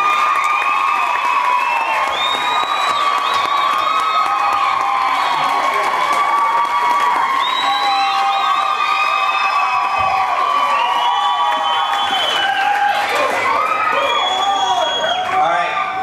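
Crowd at a school show in Tamworth, NSW cheering, whooping and applauding for line dancer Pedro Machado, sustained loud and steady throughout, with children's shouts rising above the roar.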